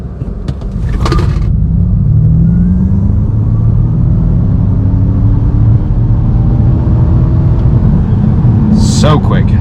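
A Ford Mustang Mach-E GT electric car launches from a standstill and accelerates hard, giving a loud, steady rising whine and rumble of road and motor noise from inside the cabin, with a brief voice at the start and end.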